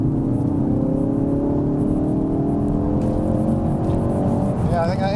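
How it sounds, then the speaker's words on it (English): A Mk3 Ford Focus RS driven in race mode, its engine droning loud and steady from inside the cabin with rising pitch as it pulls. Someone talks over it near the end. "Shall we try it in race mode and see if that's any better?"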